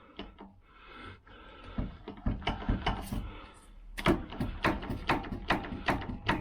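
Gears of a dry, freshly fitted Lambretta GP kickstart mechanism ratchet close up, with irregular clicks and clatters building into a quick, rhythmic run of sharp ticks toward the end.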